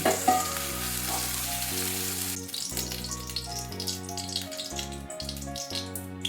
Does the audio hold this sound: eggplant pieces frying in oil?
yes